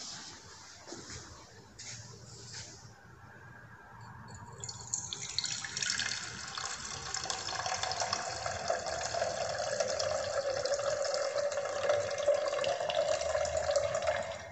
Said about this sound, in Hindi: इसमें 300 ml पानी डाल दूँगा।